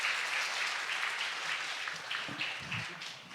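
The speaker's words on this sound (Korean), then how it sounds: "지금까지 모두 고생해주신 분들을 위해서 큰 박수 다시 한번 부탁드리겠습니다" Audience applause at the close of a Korean research review meeting on emergency response for public safety: continuous, dense clapping at a moderate level that stays even before thinning slightly near the end.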